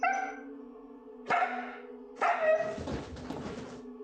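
A husky barks and yips in short bursts, a whiny tonal yelp first, then two sharper barks close by, the last trailing into a rougher, noisy howl-like vocalization.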